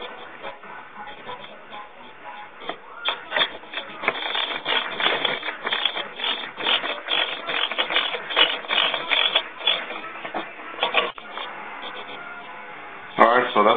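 Bolts being tightened on a Ducati Monster tail section, a dense run of ratcheting mechanical clicks and taps at close range, steady and fairly loud across the stretch with a sharper clatter near the end.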